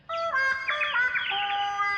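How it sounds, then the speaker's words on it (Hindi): Cartoon birds chirp in a bright, layered burst of tweeting calls that carries on steadily and close for about two seconds, with no talking over it. "क्या ये पक्षी तुम्हें पता बताएंगे?"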